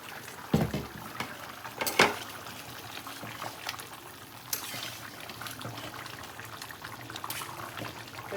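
Water poured into a pot of simmering curry gravy makes a steady, close pour and trickle against a bubbling background, with a few sharper splashes and clatters in the first two seconds.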